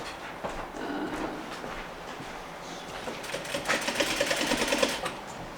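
A sewing machine stitches a seam on a Parsons chair slip cover in steady rapid bursts, close and moderately loud, with a denser run of stitching toward the end and no talking.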